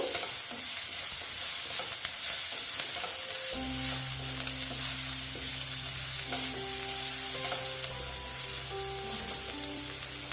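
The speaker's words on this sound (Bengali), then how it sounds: "দিয়ে এটা ভেজে নেব" Breakfast batter with capsicum frying in a pan, a steady hissing sizzle throughout, joined partway through by sustained background music that plays over the cooking noise.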